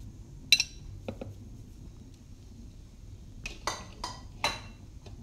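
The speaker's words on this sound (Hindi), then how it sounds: "आलू इसमें पहले डालेंगे" Potato pieces dropped into a bowl, a sharp clunk early on and then a cluster of hard knocks and clatters a few seconds later, close by with a low steady hum underneath and no speech.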